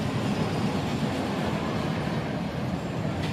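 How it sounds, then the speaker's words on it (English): Camp Snoopy amusement park train at Knott's, rolling along as a steady, broadband rumble of wheels and cars that continues unbroken and fairly loud throughout, with no voices. "And this is the Camp Snoopy train."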